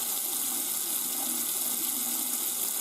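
Water running steadily from a tap after a new water pump install, a continuous broadband hiss with no air sputtering, close by and alone.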